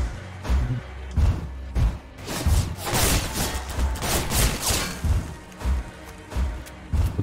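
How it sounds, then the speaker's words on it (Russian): Heavy booming blasts and rumbling crashes roll through in waves, loud and dense, like a big explosion with debris and echoing thumps, in the game Garry's Mod. "Вот это взрыв там был"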